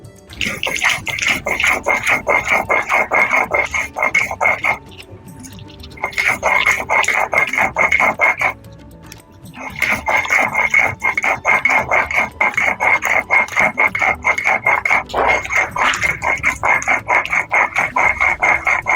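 Boiled ridge gourd and poppy seeds are ground into a paste, giving repeated rhythmic rasping strokes close by. The grinding comes in long runs broken by two short pauses, and no one speaks.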